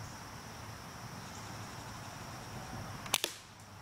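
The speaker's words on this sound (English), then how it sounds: "I'm gonna aim for the center of one of the top two targets" A Daisy BB gun fired at targets gives one or two sharp, brief cracks near the end, standing out against a quiet, steady background hiss.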